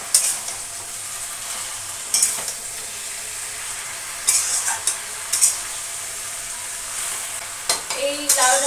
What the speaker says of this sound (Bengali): এবার একটু মিক্স করে দিই।